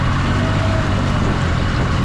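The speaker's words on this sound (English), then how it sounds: "I'm just going to go ahead and fire this up. put this in gear, give it some speed" A new 25-foot North River boat's outboard engine runs steadily under throttle while under way, a loud continuous drone with low rumble and wind-like broadband noise, no voices.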